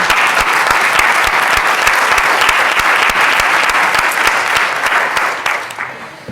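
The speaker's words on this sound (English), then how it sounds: "Yes, you can clap." Loud, dense audience applause at a voting rights forum, a steady roar of many hands clapping throughout with some sharp individual claps standing out, tapering slightly at the end.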